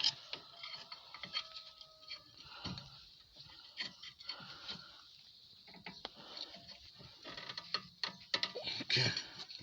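Brake caliper piston on a BMW E46 being pushed back in with a screwdriver, heard as faint, intermittent mechanical creaks, scrapes and clicks at close range.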